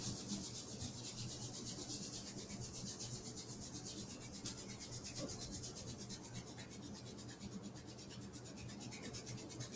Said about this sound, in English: Go ahead and rub your hands,